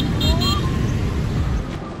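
Busy street traffic in Ho Chi Minh City, a dense rumble of motorbikes and cars close by with brief horn toots, loud and continuous, with voices mixed in.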